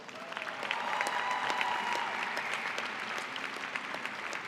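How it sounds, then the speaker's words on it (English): Applause from the audience at a 2018 Heinz College diploma ceremony, a sustained wash of many hands clapping at moderate distance, rising quickly and holding steady for several seconds. "Please join me in a round of applause."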